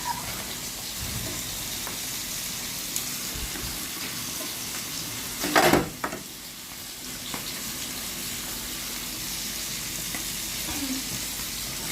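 Pieces of mantha fish dropped into a simmering tomato curry in a pan, a steady sizzling bubble throughout with one brief louder splash and clatter near the middle.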